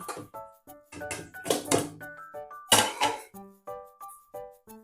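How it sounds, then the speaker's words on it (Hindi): Repeated clinks, thunks and clatters of ingredients dropping into a metal pressure cooker, in an uneven rhythm, close and fairly loud, with no talking. "तो चले अब हम इनको कुकर के अंदर ऐड कर लेते हैं"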